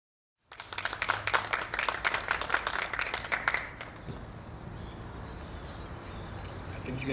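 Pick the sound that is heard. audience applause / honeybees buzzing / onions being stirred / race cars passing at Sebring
audience applause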